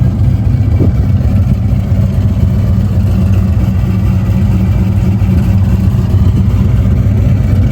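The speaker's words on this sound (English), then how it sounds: "It chops pretty hard." Cammed C5 Corvette V8 idling with a lopey, choppy rhythm, a loud, close, low rumble that pulses steadily and unevenly throughout with no talking.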